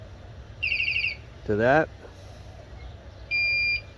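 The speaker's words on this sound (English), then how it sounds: "it's like the car alarms that do that, but it's got a little the warning chirp" A 2019 Pelican Catch 130 kayak's added alarm gives two short bursts of rapid, high electronic warning chirps, loud and near, with a brief spoken phrase between them.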